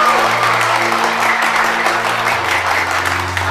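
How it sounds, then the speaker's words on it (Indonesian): An audience bursts into loud, continuous applause for the Indonesian police, with a low music tone humming beneath the clapping throughout. "Gue minta tepuk tangan buat polisi Indonesia yang selalu menjaga keamanan di Indonesia."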